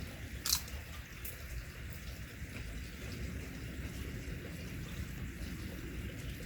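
A sharp, crisp bite into a crunchy eddoe chip near the start, then a second smaller crunch, over a steady low background hiss.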